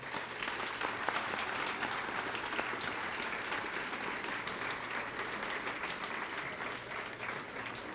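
A school crowd at Miller Elementary's 35th anniversary celebration gives steady applause to the staff, with sustained, even clapping that holds at the same level throughout and no talk on top.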